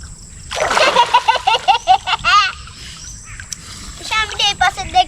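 Water splashes as a child ducks into a village pond, loud close splashing mixed with excited children's voices and laughter throughout.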